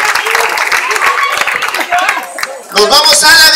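Audience clapping at a Flakolyn show at El Lagunazo: dense, fairly loud claps mixed with shouts and voices, dipping briefly near the end before the crowd noise and cheering pick up again.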